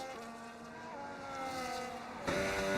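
Aston Martin race car in a racing video game at an Australian circuit, its engine note a sustained whine that shifts pitch as it downshifts on the straight, quiet and heard alone.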